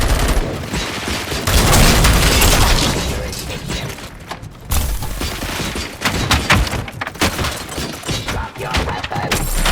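Heavy gunfire in the video game RoboCop: Rogue City, rapid bursts of shots with thuds and shattering impacts that swell and fade in clusters, some talking mixed in.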